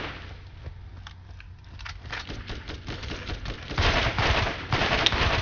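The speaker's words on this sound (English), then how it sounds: "Stop shooting me!" Rapid automatic gunfire in a Borderlands shootout, dense bursts of shots crackling continuously at moderate distance and growing louder toward the end, with no talk over it.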